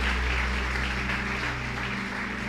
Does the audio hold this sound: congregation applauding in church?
yes